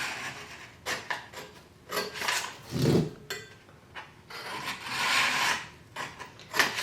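Scissors cut straight lines down through material, producing close, short rasping snips in irregular bursts with brief pauses between them.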